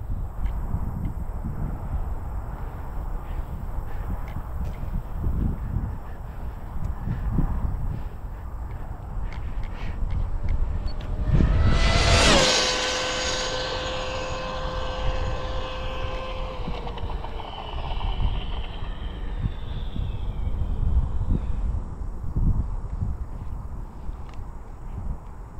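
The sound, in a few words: HOBAO VTE2 4S RC car accelerating on speed run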